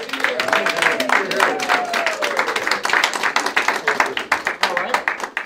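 People at a Lions Club chili cook-off clap for the contestants, a scattered round of hand claps from a modest group while a voice speaks over it and a whistle or cheer rises briefly.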